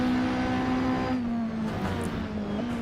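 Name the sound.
other racing cars engines in a racing video game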